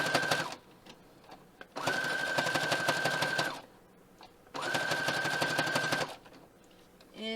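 A sewing machine stitches two rows of joined fabric tubes of jelly roll strips into a bowl, running in two steady bursts of several seconds each, with short pauses between them.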